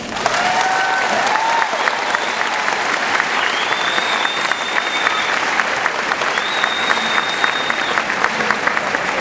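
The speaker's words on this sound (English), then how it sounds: "So if you in front of me will give them a round of applause." Audience applause at an NYPD graduation ceremony, a dense, steady wash of clapping from a large crowd lasting throughout, loud and continuous with a few faint whistles or calls riding on top.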